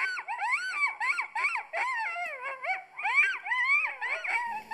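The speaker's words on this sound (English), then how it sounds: "The predator call, the automatic one I have that runs on battery, it has a yelping series" An electronic caller plays a rapid series of high, wavering coyote yelps and yips, sharp and repeated with brief pauses, no voices present.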